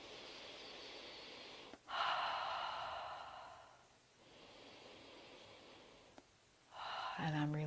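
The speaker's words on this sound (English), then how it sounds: "I'm just going to take 2 breaths here." Slow, deep breaths during a yoga squat hold: two long airy inhales and exhales, close and soft, with a brief voiced sound at the end.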